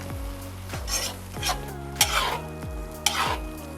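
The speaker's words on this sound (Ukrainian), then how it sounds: "І додаю цукор. Гарно все перемішую." Lamb stew in a pot is stirred after sugar is added, with a utensil scraping and knocking against the pot in a few slow strokes over a soft sizzle, close and alone.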